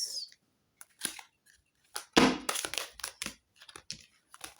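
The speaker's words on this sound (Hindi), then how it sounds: "शफल तो करने दो।" A tarot card deck is shuffled up close, with irregular bursts of crisp card riffling, flicking and soft slaps separated by short pauses, fairly quiet with no talking.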